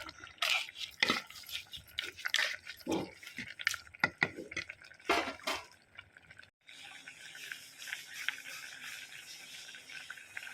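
A spoon stirs sweet pongala in a pot for the Attukal Pongala festival, giving irregular clinks and scrapes against the metal, followed by a steady wet bubbling hiss.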